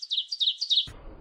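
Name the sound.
birds chirping outdoors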